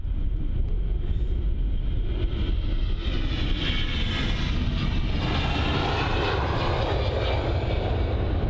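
A SunExpress airliner passing at London Luton airport, a loud continuous jet roar with a broad rushing sweep that swells and shifts as it goes by, filling the scene with no talk.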